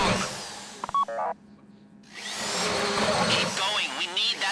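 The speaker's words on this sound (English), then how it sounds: "go in your bag, get out the drill" A drill bores into a safe deposit box during a Fleeca bank heist in GTA V Online, giving a loud, whining, grinding drone that cuts out briefly mid-clip, then resumes with shifting, wavering tones.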